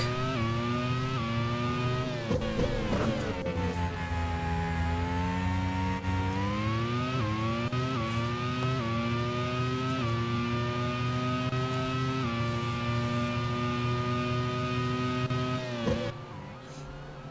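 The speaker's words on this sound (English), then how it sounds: "Raffaele Marcello tries to prove me wrong, but his car still stays on the tarmac" Race cars roar around the Laguna Seca circuit in a Grand Prix round, with a loud, sustained engine tone that climbs and drops through gear changes, then fades near the end.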